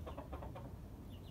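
A mother hen clucks softly inside a coop with her chicks, a few short rhythmic clucks at the start, then quieter low rustling, close but faint.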